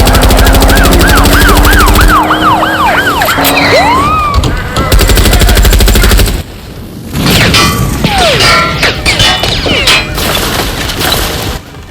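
Rapid bursts of automatic gunfire and loud booms fill a Watch Dogs: Legion street battle, with a wailing siren sweeping through the first seconds and crashes scattered among the shots.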